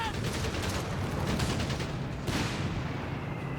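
Whizbang rocket artillery barrages in Company of Heroes 3, a dense roar of rapid launches and blasts, loud and continuous, with a fresh surge of impacts partway through.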